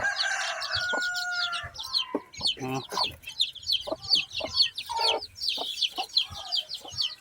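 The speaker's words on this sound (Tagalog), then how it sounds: "Yung mga manok ha." A flock of backyard chickens being fed, including young chicks, fills the space with busy overlapping clucks and chirps, and a rooster crows near the start while a voice talks quietly underneath.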